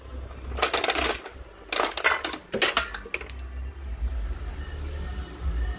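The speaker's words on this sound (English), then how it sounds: "Gumball down. I'm afraid to try that again." Gumballs drop and rattle through a gumball machine in several short bursts of hard clattering and bouncing, loud and close, then trailing into a quiet hum with no talking.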